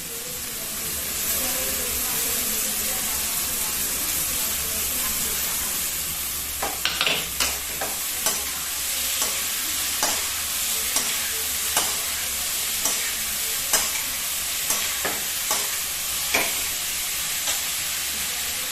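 Steady sizzling and hissing of vegetables stir-frying in a hot pan for hakka noodles, with repeated metal clinks from stirring every second or so.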